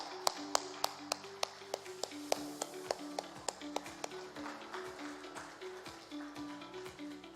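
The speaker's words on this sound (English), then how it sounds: "I request a round of applause from our audience." Sparse applause from the audience at the inaugural session of a national stroke conference: distinct, fairly quick claps for about four seconds that then thin out and fade under a low background hum.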